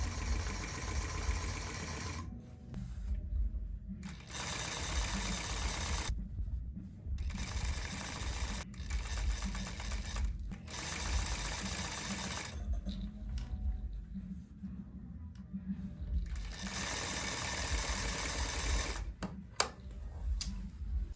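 Sewing machine stitching a tailored back welt pocket, running in several loud close bursts of rapid mechanical whirring separated by short quiet pauses.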